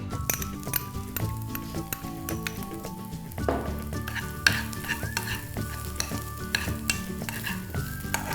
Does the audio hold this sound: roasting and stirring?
yes